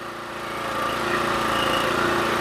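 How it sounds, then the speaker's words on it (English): A sawmill's hydraulic system runs up to a steady engine-driven drone while raising a clamped board, growing louder over the first second and then holding a strong, even hum close by. "So let's fire up my hydraulics."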